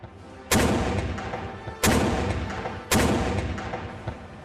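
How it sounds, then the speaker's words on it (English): Cannons fire a 21-gun salute near Cairo: three loud, booming reports spaced roughly a second apart, each trailing off into a long rolling echo. "a 21-gun salute was performed by the firing of cannons"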